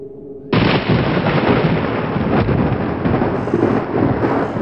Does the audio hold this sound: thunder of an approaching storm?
yes